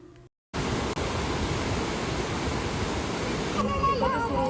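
Rushing water at Balmuri Falls near the KRS dam. A broad, steady roar starts abruptly after a short quiet stretch and holds evenly, with voices faintly audible over it near the end.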